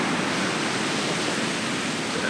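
Loud ocean surf forms a steady, dense broadband roar that fills the whole stretch with no breaks, close by and unbroken.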